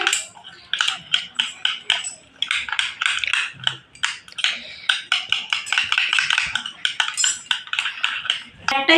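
A spoon stirs and scrapes through saptapitha batter tinted with green food colouring in a bowl, giving a busy stream of rapid clinks and taps against the bowl's sides, close and fairly loud.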